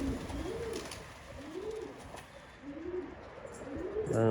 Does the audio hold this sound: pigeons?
yes